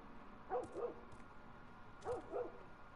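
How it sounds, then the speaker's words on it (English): A dog in a video game barks in two quick pairs of short woofs, moderately loud over a quiet background hum. "Dogs barking"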